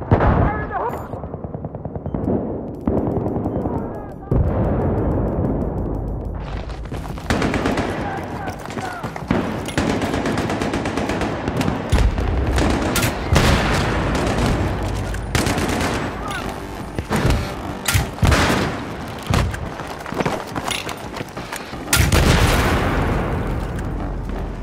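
Sustained machine-gun fire and grenade blasts in Battlefield 3 on PS3 during a Metro Rush defence, loud continuous volleys with heavy booms, while a player talks over the battle.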